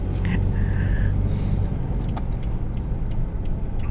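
A Toyota Fortuner pulls into parking after suspension work and an oil change, its engine a steady low rumble close by with faint clicks and knocks around it, and no talk.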